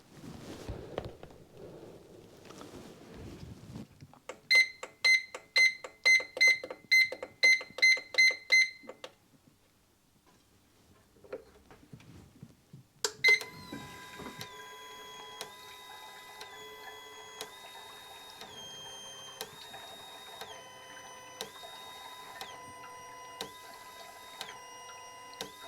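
A fuel injector testing machine runs a reverse flow test on injectors from a Zafira GSi Z20LET. Rapid rhythmic clicking pulses give way to a steady mechanical hum overlaid with repeating electronic tones.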